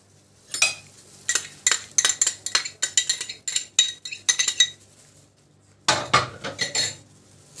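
Zucchini, tomato and garlic are stirred together in a pan, a spoon scraping and clinking against the metal in a quick irregular run of close, bright knocks, then a short pause before a few more scrapes, with no talk.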